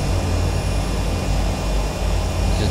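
The turbine engine of a Turbine Duke turboprop aircraft in a Prepared 3D flight simulator, a loud, steady roar with a low droning rumble and a constant high whine, continuous with no talk.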